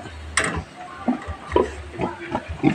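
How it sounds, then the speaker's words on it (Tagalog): Piglets on a farm giving short grunts and squeals at irregular intervals, close by, with faint clicking and rustling underneath and no talk. "Ito naman yung mga biik natin na"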